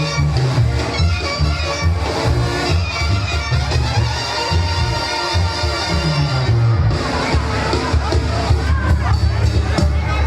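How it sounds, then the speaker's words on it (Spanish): Guests at a Purépecha wedding in Santa Fe de la Laguna cheer and shout over loud music, with crowd noise and scattered clapping running throughout. "Y el aplauso, fuerte el aplauso"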